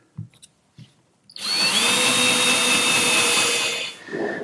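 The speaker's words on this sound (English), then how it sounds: "if you don't pre-drill for these screws" A power drill pre-drilling plywood for screws whines loudly and steadily for about two and a half seconds, preceded by a few light taps and followed by a brief lower hum.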